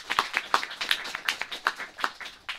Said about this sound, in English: First round of applause cue would be